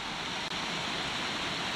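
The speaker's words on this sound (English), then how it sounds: "A lot of little waterfalls around here." Small waterfalls at Van Hornesville Falls fill the air with a steady, broad rushing hiss of falling water, close and continuous, with nobody speaking.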